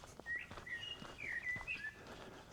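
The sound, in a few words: birds singing in the New Forest in springtime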